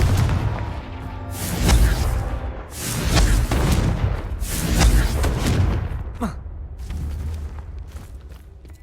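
Confringo fire spells blast again and again in a goblin mine in Hogwarts Legacy, a video game. Heavy booming explosions roll out in overlapping waves, loud and close.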